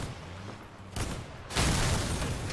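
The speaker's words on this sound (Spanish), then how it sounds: "La escopeta también dispara." A shotgun firing in the vehicle combat game Crossout, heard as loud booming blasts, with a burst near one second and a heavier sustained roar from about one and a half seconds on.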